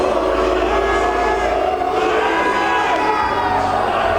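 A large crowd at the Parc des Expositions in Dijon roars continuously at a drag competition, cheering, shouting and booing loudly with a dense wash of voices throughout.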